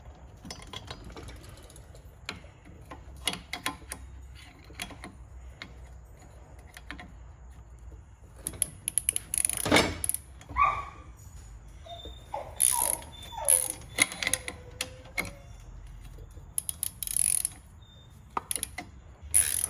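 A ratchet works loose the pivot bolt on a BMW R 1200 GS center stand, with sparse clicks early on, then bursts of rapid ratcheting and metallic clinks close by in a quiet workshop.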